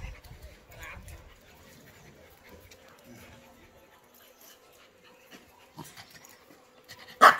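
An American Bully dog pants softly and steadily at close range, quiet throughout apart from a brief louder burst at the very end, with people talking intermittently in the background.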